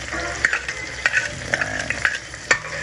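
Garlic fries in a pan with a crackling sizzle, broken by repeated sharp scrapes and clinks of a utensil stirring it, close and with no talking.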